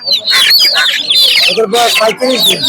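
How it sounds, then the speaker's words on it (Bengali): Desi chickens at a village poultry market cluck and squawk loudly and close by in overlapping bursts, with a voice faintly mixed in. "একটা মাসাল্লাহ দেশি মুরগি"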